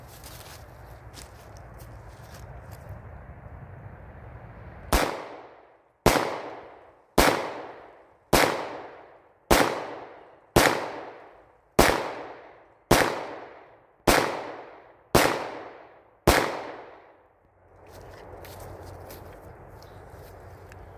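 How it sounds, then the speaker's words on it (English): Ten sharp 9mm pistol shots with Remington 115-grain target rounds, fired one after another at an even, roughly one-second pace, each loud crack trailing off into a brief decay, with quiet outdoor ambience before and after. "we're just shooting 9mm 115 grain Remington target rounds through it"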